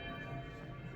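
Church bells ring in Old Jerusalem's Christian neighborhoods, a brief, faint, sustained metallic tone heard at a distance.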